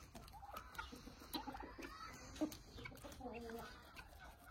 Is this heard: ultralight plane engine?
no